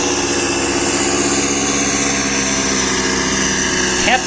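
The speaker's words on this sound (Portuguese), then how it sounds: "também tem o barulho do motor" Paramotor engine running in flight with two pilots aloft, a continuous loud buzzing drone that holds steady without pause, recorded close and dominating everything else.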